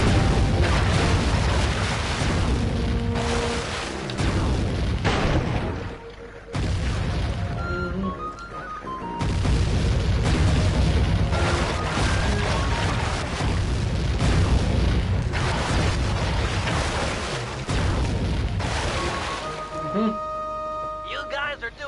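Explosions destroying boat turrets in the video game Sly 3: Honour Among Thieves, a series of heavy booming blasts with brief pauses between, loud and close, with someone talking over much of it.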